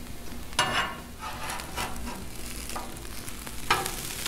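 Potatoes, sausage and onions frying on a Blackstone griddle, a steady sizzle under scraping spatula strokes and a few sharper metal clacks, close and moderately loud.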